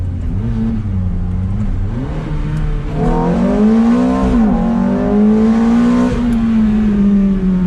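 A Ferrari F430 engine revs up and down, throaty and loud, its pitch climbing through several rises, heard close with no talking.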